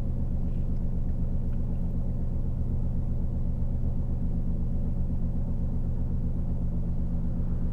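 A BMW i8 idling after starting up in sport mode, giving a steady, loud, close engine rumble with an even low drone and no change in pitch throughout.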